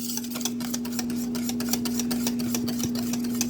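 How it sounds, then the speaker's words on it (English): Chocolate pudding mixture with egg yolks being whisked by hand in a bowl, a steady rapid scraping and clinking of the whisk repeating throughout over a constant low hum. "just give it a good whisk."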